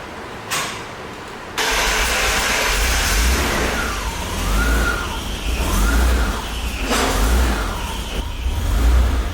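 An old barn-find BMW E34 sedan cranks and fires on a cold start, then runs rough and uneven, its engine surging and sagging in close, loud waves with no talking over it.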